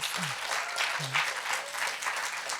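An audience at a library stage event in Exeter claps steadily after a poetry reading, a dense, even wash of applause with a few faint voices mixed in.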